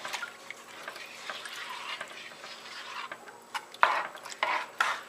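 A spoon stirs beef tips in a pot, giving soft, quiet scraping and shuffling that grows into a few louder, clearer strokes toward the end; no one talks.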